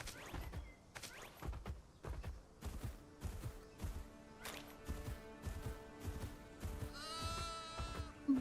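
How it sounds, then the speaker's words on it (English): Sheep bleat in the fantasy video game DragonSword: Awakening, a series of short nasal bahs repeating every second or so, mixed with thumping impacts and a wavering cry near the end. "Sheep."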